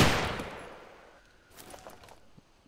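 Gunfire in the video game DayZ opens with a loud burst that fades away, followed by a few fainter scattered shots further off.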